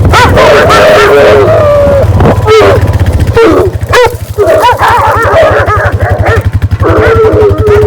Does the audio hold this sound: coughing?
no